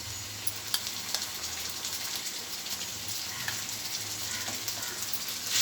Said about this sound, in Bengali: এবার আদা রসুন কাঁচা লঙ্কা একসঙ্গে বাটা দিয়ে দেবো।